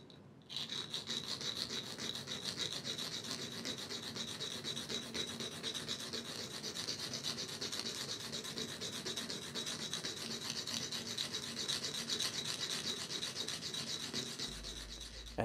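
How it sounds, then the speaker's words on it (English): A bivalve shell's umbo is abraded against a rough surface to make a piercing, producing a continuous fast rhythmic rasping rub, close and steady for the whole stretch with no speech. "Here I'll demonstrate just how quickly one can make a piercing in the umbo of a bivalve by using that last method."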